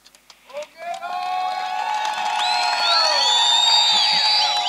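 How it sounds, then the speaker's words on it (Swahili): A crowd at a public gathering in Tanzania, where a minister is speaking by phone about road works, bursts into loud, sustained high trilling ululation with cheering and clapping. Starts with a few claps and builds into a continuous roar. "Nadhani makofi na vigelegele umevisikia."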